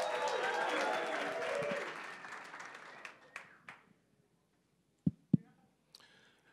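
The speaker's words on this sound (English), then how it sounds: "More applause." Audience applause at a startup pitch night welcoming the next presenter, dense clapping for about two seconds that thins out and fades into scattered claps and a few isolated final claps.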